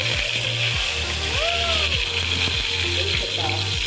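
Steady sizzling of garlic cloves frying dark brown in hot oil for a tadka, a constant crackling hiss with occasional low clicks and faint voices in the background.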